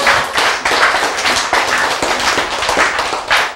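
An audience clapping in a hall, dense and loud, with many hands striking together in a steady unbroken patter and no talk over it.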